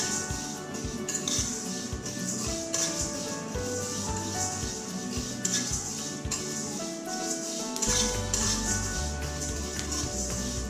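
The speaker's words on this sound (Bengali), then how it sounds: "দিয়ে একটু ভেজে নেব।" Pickle spices for a sweet raw mango pickle are stirred in a wok, with a metal spatula scraping and clinking in an irregular, close rhythm. No voices are heard.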